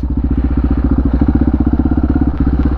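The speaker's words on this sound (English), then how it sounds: "this bike just sounds so badass" A Honda XR650R motorcycle engine idles steadily on its own, a loud, close, deep pulsing thump with an even, rapid rhythm throughout, out in a desert at night.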